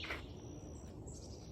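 A small flock of tufted titmice and Carolina chickadees calling outdoors in Florida, giving a few faint, high chirps at a distance against a quiet background, with no one speaking.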